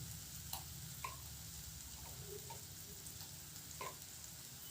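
Ginger garlic paste fries in a pan for chicken liver masala, a soft steady sizzle with a few clicks of a utensil against the pan.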